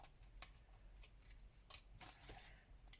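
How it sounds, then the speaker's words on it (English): Scissors snipping through paper while fussy cutting around a shape for a journal page, quiet and close, with a handful of short crisp cuts spaced irregularly. "I'm doing like a back and forward wiggle waggle with my scissors rather than following exactly the line"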